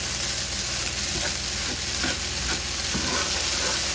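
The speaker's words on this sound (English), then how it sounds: "I'm just gonna go ahead and give that a stir." Fried rice in sesame oil is stirred in a hot pan, a constant close sizzle and hiss with soft rhythmic scraping strokes underneath, no talking.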